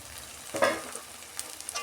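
A lid comes off a pan of oil-released cauliflower curry cooked covered without water, letting out a brief burst of sizzling frying before settling back to a quiet, low simmer.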